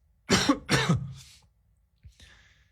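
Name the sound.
coughing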